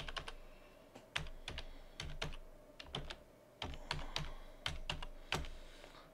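Python code is typed on a computer keyboard in irregular bursts of crisp key clicks, close and clear, with short pauses between flurries and no talk.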